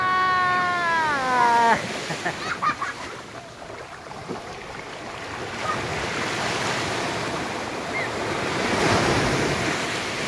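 Ocean surf rushes and roars steadily at Lemery, Batangas, with wind noise on the microphone, after a brief high-pitched cry at the start.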